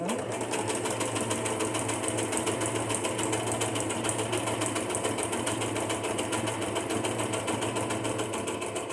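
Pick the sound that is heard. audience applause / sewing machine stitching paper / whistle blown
sewing machine stitching paper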